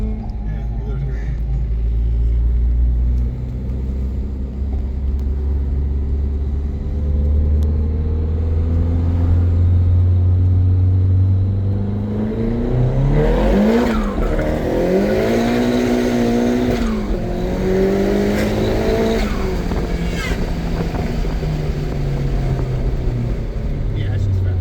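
Nissan S15 Silvia with a 396 hp turbocharged SR20 engine, loud and close, droning steadily then rising in pitch through sweeping revs with tire noise as boost builds.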